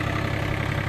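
A late-1980s or early-1990s Yanmar FX255 four-wheel-drive compact tractor fitted with a loader idles steadily, its engine giving a loud, even, close-up rumble with a fast regular pulse and no talk.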